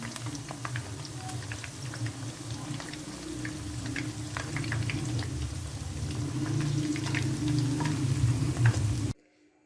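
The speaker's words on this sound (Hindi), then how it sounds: "अब हम इन्हें 1 मिनट के लिए दोबारा फ्राई करेंगे हाई फ्लेम पे ताकि ये क्रिस्पी हो जाएं" Florets of battered cauliflower for gobi manchurian being refried in hot oil over a high flame, giving a steady, close, dense sizzle with bubbling crackle that continues alone until it cuts off just before the end.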